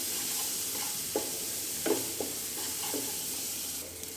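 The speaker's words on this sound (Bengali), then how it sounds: "তারপর আমি সব মশলাগুলোকে একসাথে মিশিয়ে একটু ভেজে নিব" Spices stirred and fried together in a pan for a Bengali chicken curry, a steady soft sizzle broken by several scraping stir strokes, close and fairly quiet with no talk.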